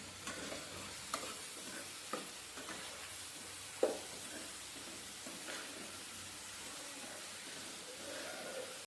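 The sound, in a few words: onions frying and being stirred with turmeric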